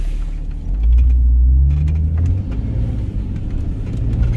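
A 1996 Jeep Cherokee XJ in four-wheel drive ploughs through about a foot of deep snow, its engine droning in a loud, steady low rumble that swells briefly as it pulls, heard from inside the vehicle with no voices.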